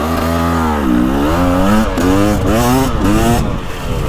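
A 2025 KTM 300XCW Champion Edition two-stroke dirt bike pulls away on a woods loop, its engine loud and close, revving up and down in repeated rising and falling surges with brief shifts between them.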